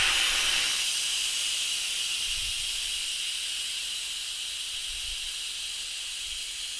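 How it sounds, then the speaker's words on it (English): Steam rushes out of the pressure-release valve of an Instant Pot Duo + Air Fryer as a loud, steady, close hiss that eases off slightly over seven seconds, with no talking. "We're going to just go ahead and release the steam out of here."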